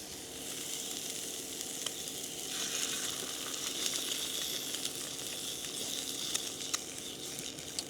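Frankfurters frying crispy in a pan on an electric cooker run from an 18V Makita battery inverter, giving a steady close sizzle with faint pops and crackles throughout.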